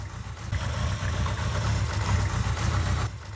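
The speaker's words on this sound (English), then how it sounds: "KZ650 as it's known in North America, is a 652cc across the frame four-cylinder motorcycle produced by Kawasaki between 1976 and 1983." The 652cc across-the-frame four-cylinder engine of a 1976–1983 Kawasaki Z650 motorcycle runs at a steady idle, a low, even rumble heard close and alone.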